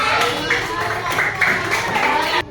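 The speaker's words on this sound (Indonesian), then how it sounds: "beri tepuk tangan dulu untuk kelompok 1" Students in a classroom clap for the first group, a brief scattered round of hand claps with a few sharper bursts, moderately loud, cutting off abruptly near the end.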